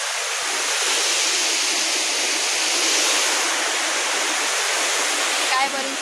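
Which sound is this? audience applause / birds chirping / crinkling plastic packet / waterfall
waterfall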